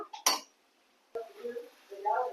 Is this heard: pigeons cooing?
no